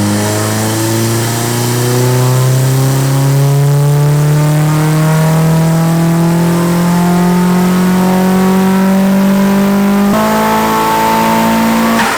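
A turbocharged car engine on a dyno at 16 psi of boost, revving loud and close in one long sustained pull with its pitch climbing steadily, a brief shift near the end, then climbing again, with no voices.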